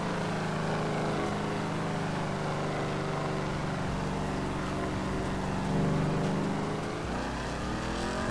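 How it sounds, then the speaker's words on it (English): A video game car engine revs up, its pitch climbing and swelling, then dropping back to a rough idle, loud and continuous without any talking. "You hear it revving up?"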